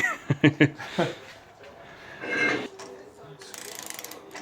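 Ratcheting clicks from a Snap-on torque wrench tightening a fastener on a Factory Five Daytona Type 65 coupe build, a quick burst of close, sharp clicks followed by slower ratchet strokes and a second clicking run.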